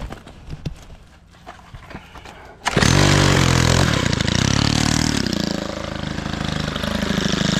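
A STIHL FS 111RX string trimmer, choked with auto choke, starts after a few quiet clicks and handling noises, then bursts into a loud close buzzing engine that settles into a rough, steady run.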